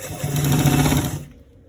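A sewing machine stitching a collar roll hums in a steady, close run of rapid needle strokes, then stops abruptly, leaving near silence.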